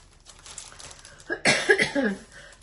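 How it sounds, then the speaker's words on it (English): A short burst of coughing brought on by smoke, two or three harsh coughs close to the mic after a quiet stretch. "this smoke has just made me cough and cough and cough"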